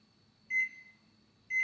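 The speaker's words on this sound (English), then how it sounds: "I'll set timer." Two short, clear electronic beeps from an oven timer sound about a second apart over a faint low hum in a quiet kitchen.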